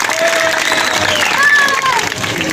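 Crowd applause at a political party welcome event in Bhadson, a steady wash of clapping under a loudspeaker-like tone, sustained and fairly loud for the whole stretch.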